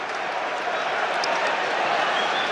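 Steady applause from a large stadium crowd at Anfield before Liverpool against West Ham, a dense even wash of clapping heard from a distance.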